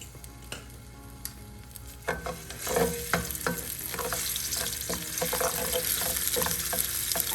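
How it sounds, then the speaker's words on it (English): Garlic ginger paste hits hot oil for a minced meat spaghetti sauce: quiet clicks at first, then a louder crackling sizzle with sharp spatters that settles into a continuous close fry. "So once the oil has heat up, add some of the garlic ginger paste."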